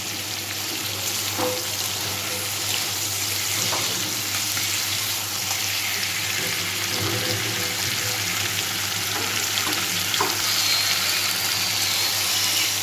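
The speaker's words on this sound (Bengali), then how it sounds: "খুব বেশি ভাজার দরকার নেই।" Shrimp sizzling in hot oil in a pan, an even frying hiss broken by brief spatula scrapes and small pops, close and continuous with no speech.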